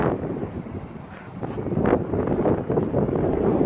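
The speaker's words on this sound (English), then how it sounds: "It's a little windy, out here." Gusty wind buffets the microphone in uneven low rumbles and whooshes, rising and falling in strength throughout.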